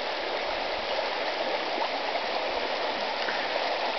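A brook crossing a wooded property runs in a steady, broadband rush of flowing water, continuous and fairly close, with no voices over it.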